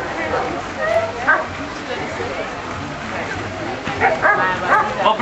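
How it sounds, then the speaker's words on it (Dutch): A police dog barks and yips during a dog training demonstration, with a run of sharp barks in the open air mixed with people talking nearby. "je ziet de hond blaffen en het geeft de indruk van hij heeft de boef gevonden"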